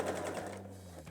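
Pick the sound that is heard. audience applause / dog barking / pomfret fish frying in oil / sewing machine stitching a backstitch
sewing machine stitching a backstitch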